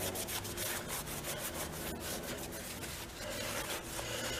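Cloth rubbing briskly over a Chevy Astro wheel, a steady close scrubbing swish with rhythmic strokes and no talking.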